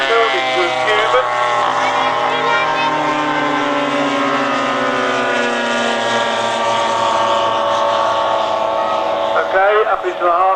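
A model aircraft engine whines past at an air show flyby, its harmonic pitch gliding downward as it climbs into a Cuban eight, loud and sustained with a brief rise near the end.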